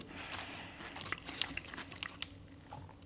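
Crunchy McDonald's McPlant nuggets bitten and chewed up close, a few sharp crisp crunches over soft chewing, quiet and without talk.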